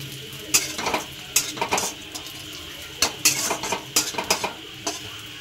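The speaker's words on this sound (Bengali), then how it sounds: "এবারে বেশ ভালোই ভাজা হয়ে গিয়েছে।" Peanuts frying in a pan, with loud metal spatula scrapes and clinks against the pan at an irregular rhythm over a steady background sizzle, close by with no talk.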